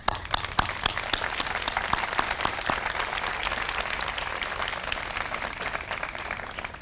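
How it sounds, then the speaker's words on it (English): An audience at a Morgan Park Academy commencement ceremony applauds, with a steady wash of clapping and a few sharp, distinct claps standing out near the start, moderately loud throughout. "Parents, I applaud you."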